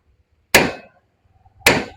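Two sharp, loud hammer blows on metal about a second apart, each ringing briefly, struck while repairing a damaged bike after an accident, with near-silence between them.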